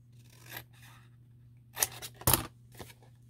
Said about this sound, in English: So I'm going to snip this one.